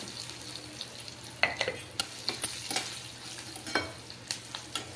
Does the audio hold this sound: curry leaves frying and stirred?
yes